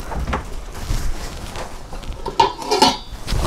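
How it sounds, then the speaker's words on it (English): A metal lid clanks onto a simmering pan of steak pizzaiola in a home kitchen, with a few sharp clinks of pot and cutlery close by. "we're gonna cover it"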